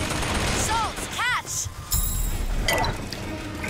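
Gunfire in the video game Bioshock Infinite during a sky battle, a burst of loud shots with whooshing effects layered over game noise and people talking.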